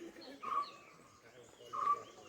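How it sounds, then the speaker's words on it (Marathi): Two brief bird calls ring out in the forest near Vasota fort in the Sahyadri tiger reserve, each a short, fairly distant note separated by a pause over a quiet outdoor background. "इथंच पक्षी आहे. कुठेतरी आवाज येतोय म्हणजे."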